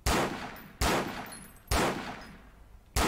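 Loud gunshots in the FH2 beta video game, four heavy single reports spaced under a second apart, each with a long booming echo tail, close and with no talking.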